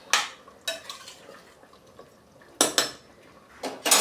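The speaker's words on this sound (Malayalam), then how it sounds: "നല്ലവണ്ണം ഇളക്കി കൊടുക്കാം." A spoon scrapes and knocks around a pot of mutton curry with roasted coconut in a few separate bursts, close and crisp, with quiet gaps between strokes.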